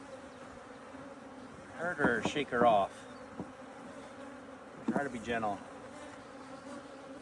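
Honeybees buzz in a steady low drone while hive frames are moved during an apiary expansion. Two people talk briefly over the hum.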